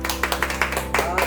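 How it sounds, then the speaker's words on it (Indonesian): At a school podcast, a small group claps for newly elected student council candidates, a quick burst of rhythmic claps heard close, with steady background hum beneath. "Kasih dulu tepuk tangan."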